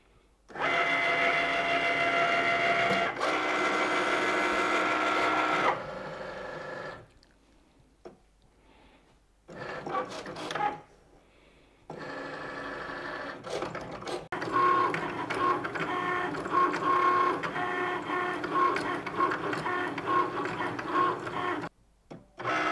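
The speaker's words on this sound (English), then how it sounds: "click the flashing Cricut button, and that will start cutting" A Cricut cutting machine slices iron-on heat transfer vinyl on a mat, giving a steady mechanical whir and chatter in bursts, with short pauses between passes, close and moderately loud.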